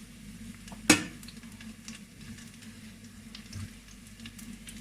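A pan with a glass of sunflower oil heats on the stove and gets stirred, giving one sharp metallic clink of a utensil against the pan, followed by a low, steady sizzle and quiet stirring.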